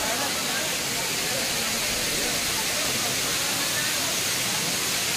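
A waterfall at Pachmarhi, a steady broadband roar of rushing water that stays loud and even from start to finish, with no pauses.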